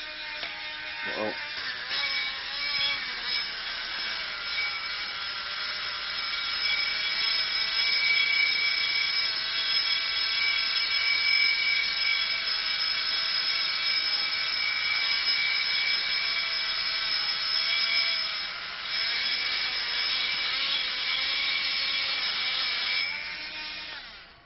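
A steady, high-pitched mechanical whir of a spinning gyroscope runs throughout, holding an even pitch with a slight rise and fall partway through.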